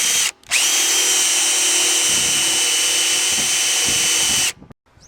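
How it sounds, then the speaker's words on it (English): A power drill whines loudly and steadily while drilling pilot holes in an oak wine barrel, stopping briefly after the start, then running continuously for several seconds before cutting off. "So you just need to drill a couple of pilot holes in the corner."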